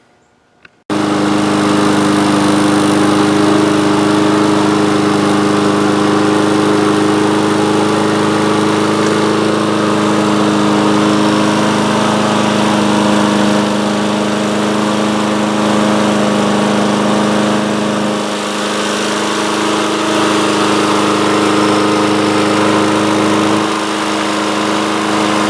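A Honda small engine runs steadily after an oil leak repair at the governor shaft, starting with a sharp click before settling into a loud, continuous idle hum with a slight dip in pitch near the end.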